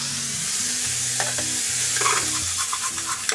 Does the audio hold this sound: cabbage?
yes